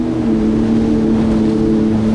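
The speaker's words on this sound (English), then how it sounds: "jet boat, coming. in." A steady, loud jet boat engine drone with a strong low hum, close by and continuous, as the boat passes at Niagara Falls.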